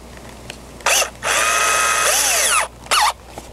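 A power drill fitted with a 1/8 inch bit bores holes into a curb alarm housing, with a short burst, a sustained whining run of about a second and a half as the bit cuts, then another brief burst, close and loud.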